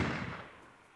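A zombie blowing up in the Roblox Deadzone game, heard as a single booming blast that is already underway at the start and then fades into a rumbling decay over about a second, with no talk.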